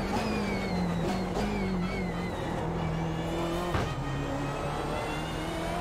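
BMW M8 race car in iRacing at Circuit Zolder, engine note rising and falling as it brakes for a corner and then accelerates away, steady loud drone with pitch sweeps and a brief thump, no talking.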